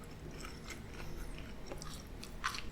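A chicken meal being chewed up close, with soft wet munching and a few crisp bites, steady and quiet with no talk over it.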